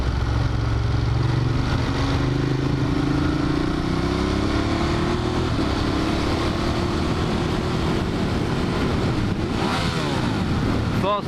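A Ducati Monster 1200 motorcycle is ridden on the road, its engine note rising and falling through gears under continuous heavy wind rush, close and loud throughout.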